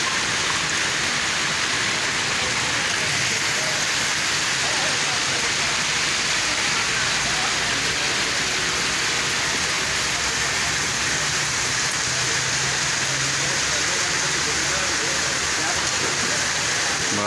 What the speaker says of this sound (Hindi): फतेहपुर च बारिश हो रही है